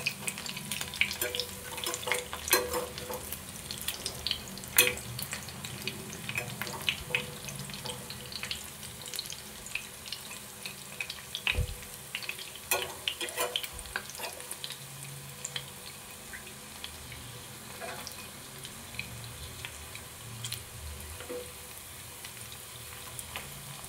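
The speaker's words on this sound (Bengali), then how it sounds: "বড়াগুলো আমি খুব ভালোভাবে ভেজে নিয়েছি" Soya chunk kofta balls fry in oil in a pan with a steady crackling sizzle, joined by soft clinks and watery rustles, no voices.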